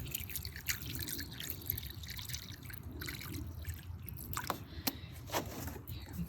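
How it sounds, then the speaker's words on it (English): Spring water trickles and drips into a bowl, soft irregular plinks and splashes over a quiet outdoor background, faint and close, with no talk. "I'm going to put some spring water in the bowl."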